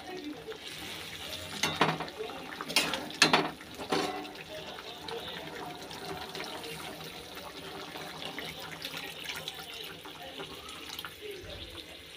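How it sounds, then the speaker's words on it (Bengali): Hot water poured into a pan of potato and plantain curry, a brief splashing gush with a burst of bubbling near the start, then a quieter simmering hiss that continues steadily. "এখন এটাকে গরম জল করে রেখেছি, গরম জলটা দিয়ে দেবো।"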